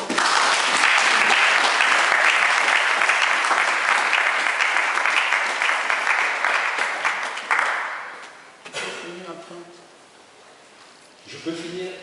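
A church congregation breaks into loud, sustained applause for several seconds, dense clapping from many hands that gradually fades, followed by a voice speaking.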